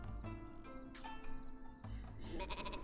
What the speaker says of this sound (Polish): Co ty robisz tą owcą?